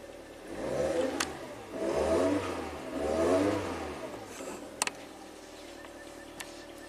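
A Toyota Camry engine runs after a new Denso ignition coil is fitted, rising and falling in three smooth revs before settling to a quiet idle, close by, with a couple of sharp clicks near the end.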